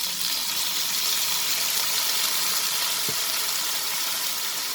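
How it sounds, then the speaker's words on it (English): Chicken stir fry sauteing in a pan gives a steady broadband sizzle throughout, with a faint brief tap near the end. "We'll saute this for 1 minute."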